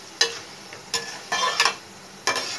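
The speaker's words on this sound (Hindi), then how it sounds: "ये फ्राई हो रहे हैं" Poha (flattened rice) frying in hot oil gives off intermittent crackling bursts and brief sizzles, a few separate spurts close by with quiet gaps between.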